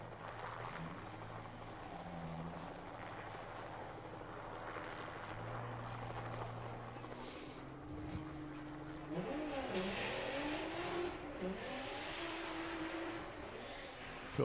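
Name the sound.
Volkswagen Jetta drag racing run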